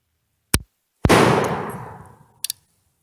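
A single loud rifle shot from a 1902 Rolling Block or M1891 Carcano at an outdoor range, a sharp crack with a long decaying rumble, framed by faint metallic clicks before and after.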